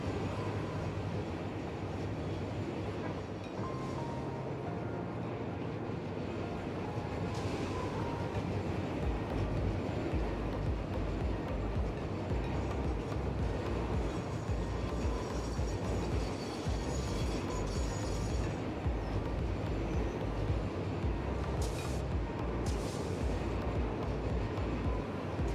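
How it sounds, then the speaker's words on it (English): Trains rolling through a factory-building game make a continuous low rumble with rattling rail noise and occasional clanks, a steady mechanical roar with no talking. "Trains are still running."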